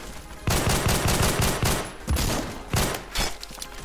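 An AK-47 in a Roblox game fires several loud automatic bursts, each lasting about a second, with brief gaps between them.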